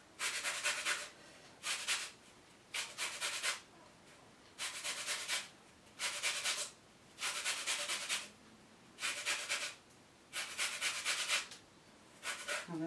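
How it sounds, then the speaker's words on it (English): A whole lemon rubbed against a metal grater for its zest, giving repeated rasping strokes in a steady rhythm with short pauses between them, close and fairly quiet, no talking. "I'm going to put the zest of a whole lemon into there"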